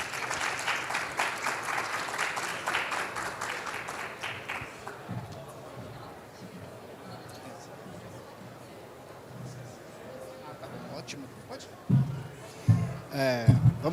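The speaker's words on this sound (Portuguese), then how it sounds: "Por gentileza, uma salva de palmas." Audience applause at a panel event welcoming a communications manager to the stage, brisk clapping for about five seconds that fades into quiet room noise, followed by a speaker talking near the end.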